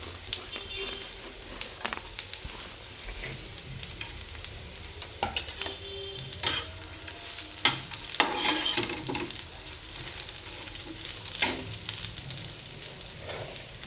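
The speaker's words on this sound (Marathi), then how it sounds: "कांदा आता छान गुलाबी रंगाचा भाजून घ्यायचा आहे तेल टाकून।" Onions frying in oil for a mutton curry, a soft continuous sizzle broken by frequent spoon-stirring clatters and scrapes, with some talk in the background.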